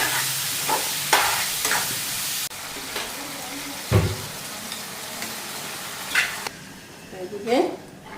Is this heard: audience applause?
no